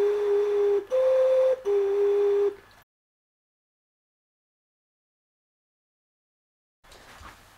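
Three steady, reedy whistled notes from a homemade flute played through a milk drinking straw, the second slightly higher, then silence and a brief rustle at the end.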